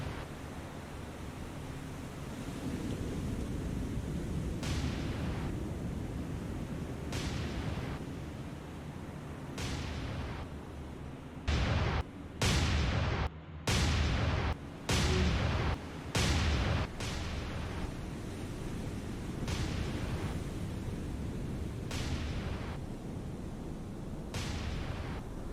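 Naval guns thunder at destroyers in the WWII naval game War on the Sea, set around Operation Watchtower, with a steady roar of sea and engine noise broken by about a dozen loud booming shots, several in quick succession.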